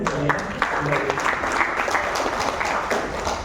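An audience at a port technical briefing in Pontianak applauds, a steady patter of many hands clapping throughout at moderate level, with no speech over it.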